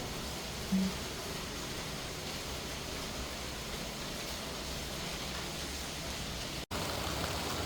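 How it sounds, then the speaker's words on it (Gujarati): Rain falls steadily at home, a soft, even wash of drops on surfaces, faint and continuous throughout with one brief thump early on. "ઘરે આવ્યા તો વરસાદ પણ ચાલુ થઈ ગયો છે"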